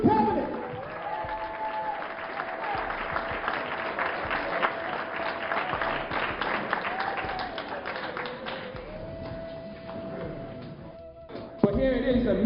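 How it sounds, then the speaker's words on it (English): Sustained crowd applause fills a hall at a speaking event, steady clapping with a faint underlying tone running throughout, then a brief thump near the end. "Give him a round of applause."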